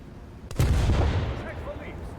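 War Thunder submarine deck gun firing a single loud, close shot that booms and rumbles away into a lingering low roar.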